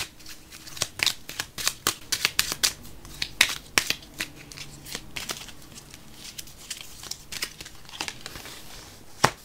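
Astrology cards shuffled by hand, a close series of crisp riffles and flicking slaps in uneven bursts, fairly loud and with no speech.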